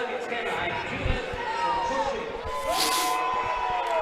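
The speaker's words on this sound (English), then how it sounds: "So the crowd not happy" Indoor soccer arena crowd at a Wichita Wings versus New Mexico Runners game, a broad murmur of voices with scattered shouts and whistles rising late, heard under an announcer's commentary.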